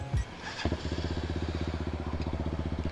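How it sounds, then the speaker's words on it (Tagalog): A GPR250 motorcycle engine fitted with an SC1-R SC-Project exhaust muffler catches after a short crank, then settles into a fast, even throbbing idle with a deep, regular popping beat close by. "yung sound check na lang natin sa huli itong ating muffler"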